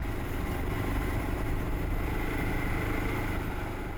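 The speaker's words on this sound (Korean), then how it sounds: "숲에 오토바이 엔진 소리가 울려 퍼진다." A motorcycle engine runs steadily in the Amazon forest with a constant rumbling drone, loud and close, holding an even pitch throughout.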